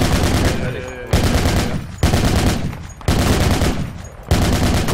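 Heavy machine gun fire in the tactical shooter Project Reality, loud close bursts of rapid shots in four or five sharp-onset volleys that each trail off before the next one starts, with no talk.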